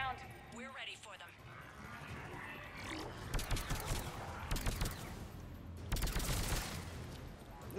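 Bursts of gunfire from a firefight in Mass Effect Legendary Edition, with heavy rapid volleys clustering mid-way and again near the end, mixed with game voices and other battle noise.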